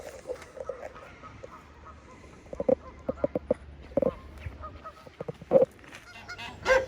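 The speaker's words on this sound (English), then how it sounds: "there's a bloody chicken in there" A chicken near a home-built greenhouse gives short, sharp clucks and squawks in scattered bursts. It is close by over a low outdoor background.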